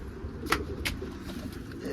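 A pigeon brooding on its eggs inside a nest box gives soft, low cooing close by, with a couple of brief sharp knocks breaking the steady murmur.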